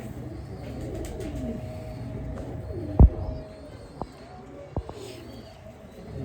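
Ferozpuri pigeons coo softly in Dharampura, Lahore, giving low, murmuring calls over a quiet background, broken by a few sharp knocks and some faint voices.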